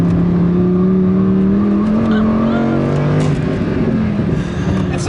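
A 2015 Lamborghini Huracán LP 610-4 engine roars loud and close on a track, holding a steady high drone that climbs through the revs before easing off, with a faint voice underneath.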